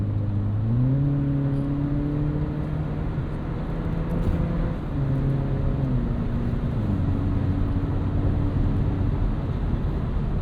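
A Toyota 4Runner TRD Pro turbo hybrid SUV accelerating up a highway on-ramp, its engine note climbing steadily in pitch and holding over constant road and wind noise heard from inside the cabin.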